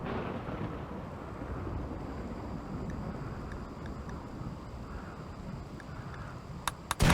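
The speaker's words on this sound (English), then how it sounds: "Oh, jeez. Lightning." Thunder during a storm in the RimWorld video game makes a long, low, steady rumble with a rainy wash on top and a sharp, loud crack right at the end, with no voices.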